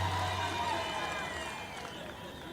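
A crowd claps steadily and densely at the ceremony conferring city status on Eldoret Municipality, with the applause easing slightly toward the end.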